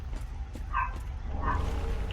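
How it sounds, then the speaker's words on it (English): A dog in Dark Souls 3's Farron Keep gives two short barks or yips under a low ambient game rumble, moderately distant. "Fucking dog."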